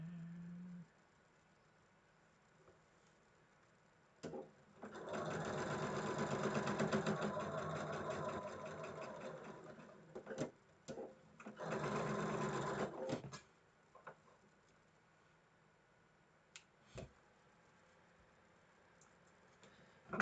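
A home sewing machine stitches quilt block pieces together in two steady whirring runs, about eight seconds and three seconds long, with quiet handling and faint ticks between them.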